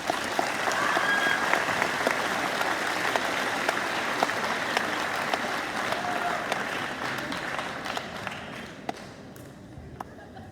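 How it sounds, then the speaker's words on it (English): Audience applause fills a school awards ceremony for high school grades 9-11, a dense steady clapping from a large crowd that holds throughout and thins slightly toward the end. "Let's give every one of these a hand of applause."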